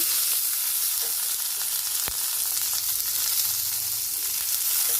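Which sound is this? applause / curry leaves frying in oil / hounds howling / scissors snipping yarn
curry leaves frying in oil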